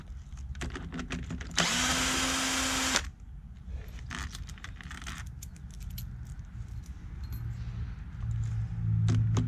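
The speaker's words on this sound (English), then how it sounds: "I'm going to take these two bolts out that's holding the carburetor and intake manifold down to the top of the motor" A power tool spins out 10 mm bolts holding the carburetor and intake manifold on a GY6 50cc scooter engine, a short loud whirring burst up close amid clinks and handling noises.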